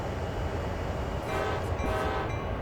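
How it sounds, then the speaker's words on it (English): Train horn in the Train Sim World 2020 game, sounding in two long blasts over a steady rumbling engine and rail noise, close and loud, with no talking. "Two honks. 2 honks of the horn."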